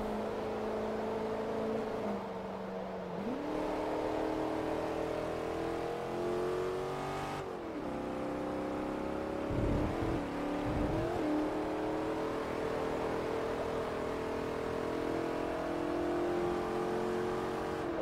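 A Chrysler muscle car engine in a racing video game roars steadily throughout, its pitch climbing and dropping through gear shifts, with a couple of deeper revving surges near the middle.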